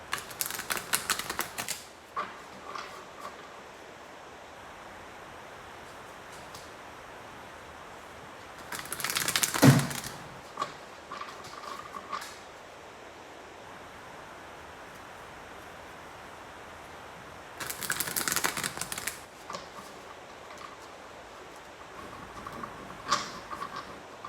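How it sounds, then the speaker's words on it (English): Tarot cards being shuffled by hand in three short bursts of dense riffling and rustling, spaced several seconds apart, fairly close, with a quiet background between bursts and no talking. "So let me shuffle the cards one moment."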